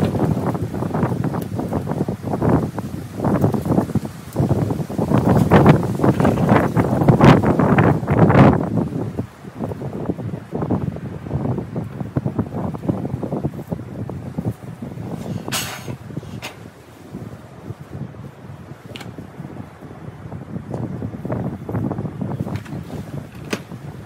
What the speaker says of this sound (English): in this 5 mile an hour wind.